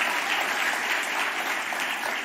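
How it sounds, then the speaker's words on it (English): Church congregation clapping and cheering for two youth boys being baptized, a steady dense wash of applause from many hands throughout, fairly loud and close with no talk over it. "Yeah, you can cheer."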